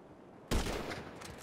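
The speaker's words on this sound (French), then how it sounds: "Je suis en train de lui tirer dessus." Gunfire in the video game GTA Online, one abrupt loud burst after a quiet moment, followed by a dense rattle that fades over the next second.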